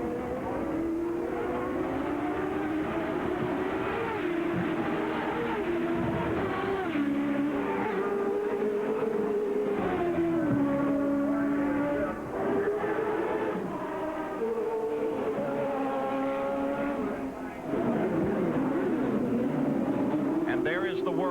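1990 CART IndyCar race cars scream past on the Long Beach street circuit, sweeping under a parking garage; loud, continuous high-revving engine whine rises and falls in pitch as cars shift and pass, with a commentator talking throughout.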